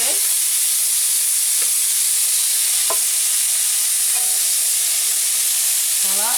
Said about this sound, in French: Donc on va mettre les morceaux de lard